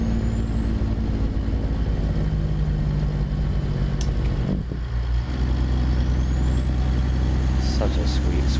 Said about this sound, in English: Because they'd rather hear the truck.